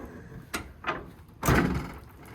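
Door of a 1979 Ford Bronco handled and shut: two light clicks of the latch mechanism, then a solid, close thump as it closes and latches, in a quiet setting.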